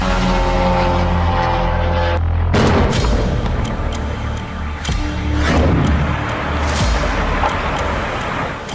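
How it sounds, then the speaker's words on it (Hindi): A sudden loud explosion in Rostov, Russia, during a drone attack, cuts through steady background rumble of drones, followed by noisy crackling and lingering roar in the distance. "आसमान में ड्रोन की आवाज के बीच रोस्तोव में यह जोरदार धमाका हुआ।"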